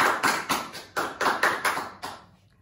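A small group in a biology class claps for a student's correct answer, about eight distinct claps in an uneven rhythm that fade out quickly, close but fairly quiet, with no talk.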